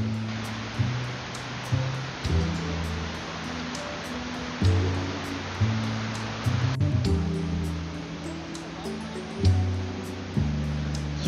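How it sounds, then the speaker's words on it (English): A small side creek beside a forest trail in New Hampshire flows with a constant hissing rush, while low music with a plodding rhythm plays over it and no one speaks. "Little side creek on the other side of the trail."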